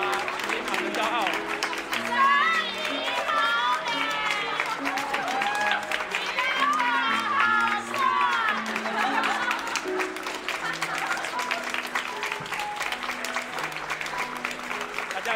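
Continuous applause from wedding guests welcoming the groom's parents, dense clapping under background music, with voices mixed in across the whole stretch.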